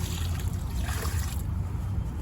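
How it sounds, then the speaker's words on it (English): Leftover smelly drench water is poured around a newly planted fruit tree in an urban garden, a soft steady trickle and splash close by. "we're going to take the leftover drench, the smelly water, and we're just going to pour it"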